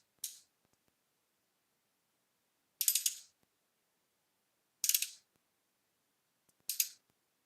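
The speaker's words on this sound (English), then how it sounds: "I could put a whole lot of torque down with this ratchet because it's really long" A long ratchet tightening bolts during a car alternator and throttle body repair, four short crisp bursts of rapid clicking with quiet pauses between, close and fairly soft.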